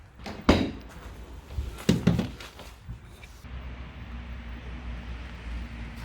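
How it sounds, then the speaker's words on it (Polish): Cargo area door of a 2019 Volkswagen Transporter T6.1 van being opened wide, giving a few sharp mechanical clunks and rattles up close, followed by a steady low hum of the surroundings. "Drzwi do ładowni możemy otworzyć"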